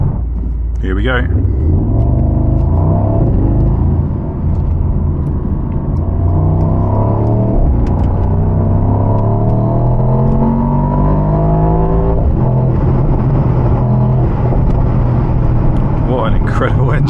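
Mercedes SL AMG V8 revving and accelerating through several gear pulls, its loud rumbling engine note repeatedly rising in pitch, with a voice talking intermittently over it and occasional sharp crackles near the end.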